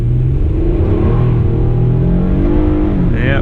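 2013 Toyota Camry XLE V6 pulling hard from a stop, its engine note climbing loudly through the revs from inside the cabin with a brief higher whine at the end.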